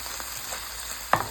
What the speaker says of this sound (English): Okay, and we're just gonna keep stirring that.